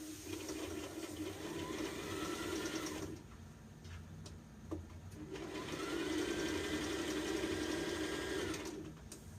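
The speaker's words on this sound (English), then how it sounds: "Raise up and make sure it's stitching properly." A sewing machine stitches a dress in two long continuous runs with a brief pause between them, the motor's steady hum loud and close.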